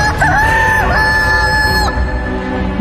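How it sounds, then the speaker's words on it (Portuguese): Rooster crowing loud and close, one long cock-a-doodle-doo with rising and falling pitch, followed by a brief second call. "Imediatamente, o galo cantou."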